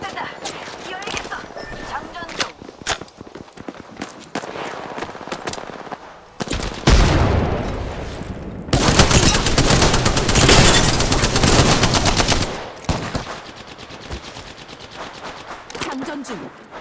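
Apex Legends gunfire rattles in loud, close bursts: scattered single shots early, then long sustained automatic fire, with short pauses and game voice lines around it.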